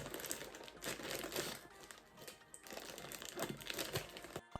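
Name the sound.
plastic packaging crinkling during unboxing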